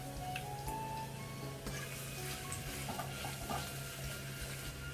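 Chopped onion and curry leaves frying in a pan, a continuous soft sizzle and crackle with occasional light stirring scrapes, close and fairly quiet.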